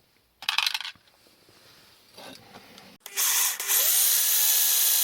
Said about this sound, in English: The pilot hole is drilled to a diameter larger than the ball, but not all the way through